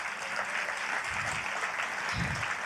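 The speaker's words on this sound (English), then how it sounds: "so we applaud now" Steady audience applause in a hall, a dense continuous patter of many hands clapping at even loudness throughout, with no voices over it.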